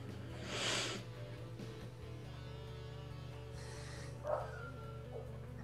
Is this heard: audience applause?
no